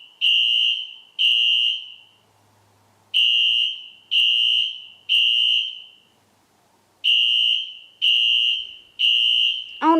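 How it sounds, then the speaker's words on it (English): A pulled fire alarm blares in loud, regular electronic beeps clustered in threes, each a sharp buzzing tone with brief pauses between groups, sounding alone without talk. "I'm going to pull the fire alarm."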